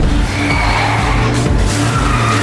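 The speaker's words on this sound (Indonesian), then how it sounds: "aksi kejar-kejaran pun terjadi di gedung parkiran tersebut" Loud tire squeals and skidding from cars in a chase through a parking garage, engines roaring underneath, close and continuous with no talking.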